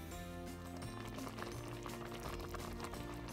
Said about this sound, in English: We're just going to take it up to a slow boil, and it's going to take about an hour to get to the right consistency.